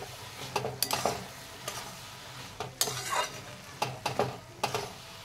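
Lau dim, a curry of bottle gourd and egg with garam masala, stirred in a hot frying pan: close scraping strokes come in irregular bursts over a steady low sizzle, with no voices.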